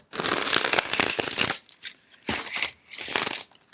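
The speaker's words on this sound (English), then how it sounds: "1 more shuffle" Papery tarot cards riffled and shuffled up close, a long crisp burst followed by shorter shuffles with brief quiet gaps.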